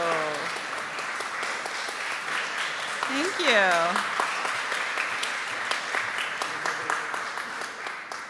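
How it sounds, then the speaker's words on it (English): Congregation applauds participants at a worship service, steady broadband clapping filling the room throughout, with a voice speaking briefly partway through. "we can give them another warm welcome of applause"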